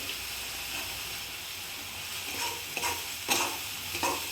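A spatula stirs mutton curry with homemade black masala in a pan, a soft steady sizzle punctuated by several louder scraping strokes in the second half, quiet overall and without voices.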